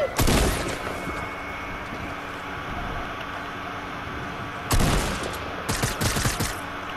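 Close, loud bursts of gunfire: a sharp volley at the start, a quiet stretch, then another heavy burst followed by several rapid shots.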